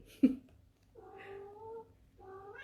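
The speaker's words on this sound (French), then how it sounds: "je suis désolée si vous entendez miauler" A pet cat meows twice indoors, two drawn-out tonal calls close to the microphone, following a short thump, with no talking over them.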